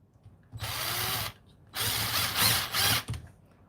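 A power drill drives wood screws into a contraption in three loud whirring bursts with brief pauses between, up close, ending with a short final buzz.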